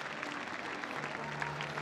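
Crowd applause after a dramatic squash match at the Canary Wharf Classic, a steady, fairly soft wash of clapping heard from a distance, with no voices over it.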